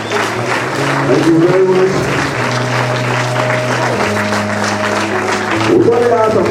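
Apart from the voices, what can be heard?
applause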